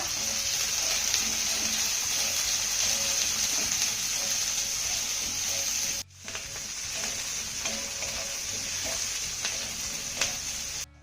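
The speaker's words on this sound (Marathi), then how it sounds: "आता ह्या मिरच्या आपण एक मिनिटभर चांगल्या परतून घेऊया" Chopped green chillies sauté in a hot pan with a steady, close sizzle and occasional stirring scrapes, continuous throughout with a brief break midway.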